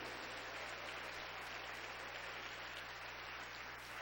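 A church congregation applauds at a preaching event, a steady, dense wash of many hands clapping that holds evenly from start to finish at moderate distance.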